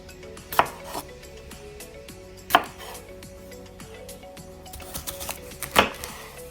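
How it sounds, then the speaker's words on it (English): Knife chopping jalapeño and red bell peppers on a cutting board, three sharp distinct chops spaced a couple of seconds apart over a quiet kitchen background. "We're gonna start chopping down these jalapenos, rough chop them"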